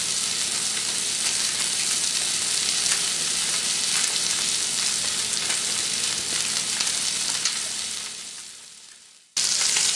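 Duck breasts searing fat-side down in a hot pan give a loud, steady, dense sizzle that fills the whole stretch, fading briefly near the end before cutting back in, with no talk.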